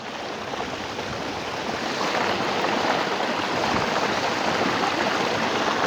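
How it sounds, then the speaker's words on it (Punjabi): Clean water rushes through a deep farm irrigation channel lined with brick, a steady loud broadband gush that continues without a break and swells slightly toward the end. "ਪੂਰਾ ਸਾਫ ਪਾਣੀ ਆ ਰਿਹਾ ਜੀ"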